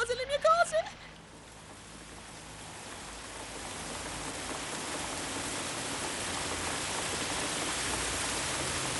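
Steady rain falling while the sun shines, a soft even hiss of drops that builds slightly and continues alone after a brief high-pitched sound at the start.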